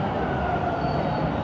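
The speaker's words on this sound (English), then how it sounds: "This looks like an eastbound Line 2 train." Eastbound Toronto subway Line 2 train near St George Station at Queen's Park, a steady broadband rumble of rolling cars that stays even and loud throughout.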